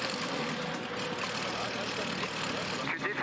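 A light aircraft engine runs close by with a steady, droning tone and no clear rise or cutoff.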